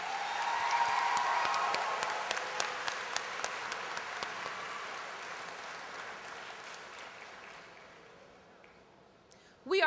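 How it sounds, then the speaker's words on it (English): An audience applauds the 2013 Distinguished Alumni Award recipients at the Harris-Stowe State University commencement, with broad clapping and a few crisp individual claps that gradually fade before a brief noise at the end. "please give our 2013 Distinguished Alumni Award recipients a round of applause"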